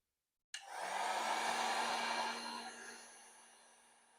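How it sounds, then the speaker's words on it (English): A heat gun switches on abruptly and blows a loud, steady airy roar onto a solder butt connector used in a Lexus GS300 fuel pump upgrade, then gradually eases off as it winds down. "When you heat it up with a heat gun, it's supposed to melt the solder"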